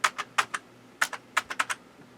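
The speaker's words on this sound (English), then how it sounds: "This keyboard does not work." Keys clatter on a UK keyboard attached to an Amiga A1200 computer, sharp close clicks in short uneven bursts with brief pauses, quiet and free of speech.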